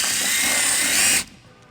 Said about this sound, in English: we're gonna use a 3/16 drill bit to drill our first hole